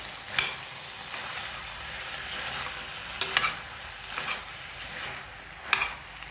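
Vegetable palya with grated coconut and coriander leaves is stirred in a pan, a spoon scraping and tapping at irregular intervals over a steady soft frying sizzle, close and moderately quiet, with no talk.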